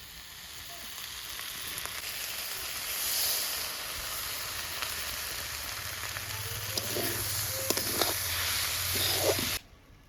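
Eggplant and greens fry in a pan with ginger paste and soaked rice paste, giving a steady, close hiss and sizzle that swells slightly before cutting off abruptly at the end.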